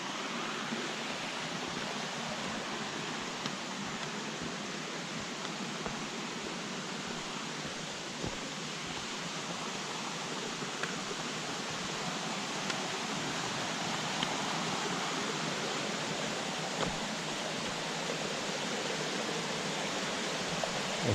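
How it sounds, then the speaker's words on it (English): A steady rushing roar of Glory Hole Falls in Arkansas, constant and full-bodied throughout, with no voices. "A nice waterfall there."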